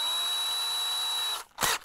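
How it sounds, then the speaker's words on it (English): A small power drill bit whines steadily while boring a pressure relief hole into the bottom of a plastic bottle, then briefly stops and revs again in a short closing burst. "Now I'm going to take and get a small drill bit to make a pressure relief hole."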